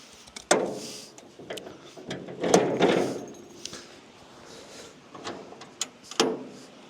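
Legs of a 2012 Track Trailer Tvan Murranji Mk3 camper trailer sliding into slots on the deck, a series of sharp metallic clunks and scraping slides, close and fairly quiet, with no talking.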